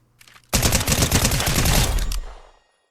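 The Veiled Precision SMG in Fortnite rips off one loud, rapid-fire burst of about a second and a half, with tightly packed shots that cut off sharply and trail into a brief fading echo.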